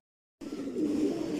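After a moment of silence, racing pigeons at a pigeon farm break into close, throaty cooing that swells and holds steadily to the end, with no voices.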